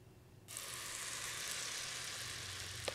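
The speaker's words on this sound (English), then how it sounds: "you're gonna hear that cornbread batter hitting that pan" Cornbread batter hits a hot cast iron pan and bursts into a steady, bright sizzle after a brief quiet moment, holding loud and even, with a faint scrape near the end.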